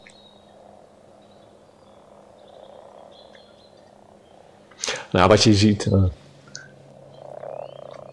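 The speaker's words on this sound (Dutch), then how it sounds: "En dan zag je een soort orgie van kikkers." Frogs croak in a dense, rhythmic chorus during spring amphibian migration, a loud burst of calls in the middle over a quieter background, while someone speaks Dutch at the start.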